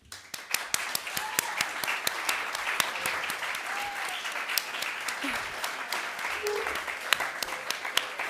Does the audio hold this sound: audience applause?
yes